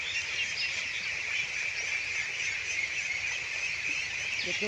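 A flock of about three hundred ducks on a duck farm, a dense continuous chorus of nasal quacks and honks at moderate distance with no talk.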